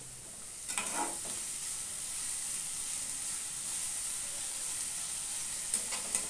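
Shushni greens with fried onion sizzle steadily in hot oil in a pan while being stirred, with a few brief scraping stirs over a constant frying hiss and no voices.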